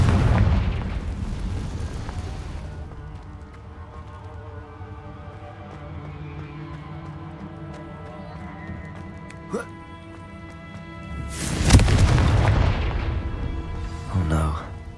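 Confringo fire spell explosions in the Hogwarts Legacy video game, heavy booming blasts with a rumbling, ringing tail that fades and then a second loud burst near the end, mixed with game sound.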